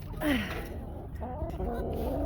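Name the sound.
chickens clucking in garden chicken area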